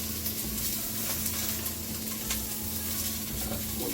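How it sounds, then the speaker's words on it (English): Sausage sears in a pan for gumbo, giving a continuous soft sizzle and crackle close by for a few seconds, with no talking. "who doesn't like a good sear on their sausage?"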